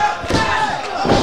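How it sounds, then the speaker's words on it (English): Wrestler's top-rope elbow drop hitting the ring at a live wrestling show, dull thuds from the mat under a loud, steady crowd roar. "hits the elbow drop"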